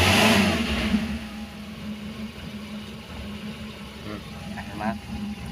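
A Suzuki Espass car engine idles steadily up close, loudest at the start and settling into an even hum before shutdown, with someone talking over it.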